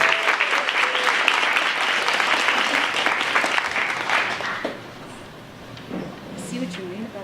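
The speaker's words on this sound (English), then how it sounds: "Please give a round of applause for Elizabeth James," An audience at a storytelling event breaks into warm, dense applause that carries on for several seconds, then fades away into a quiet room with a few scattered sounds.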